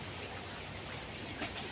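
Steady rain pours down during a thunderstorm, a faint, even hiss of countless drops on surfaces continuing without pause.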